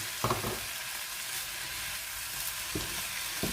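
Tomatoes sautéing in butter in a pan give a steady close sizzle, with a few brief stirring scrapes, and no voices.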